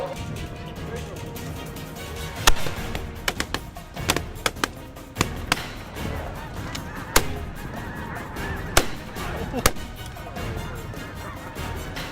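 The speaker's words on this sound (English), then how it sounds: "we can literally hear hundreds of geese" A large flock of snow geese honks steadily in the distance on a spring morning, with scattered louder honks and sharp knocks rising above the dense, continuous chatter.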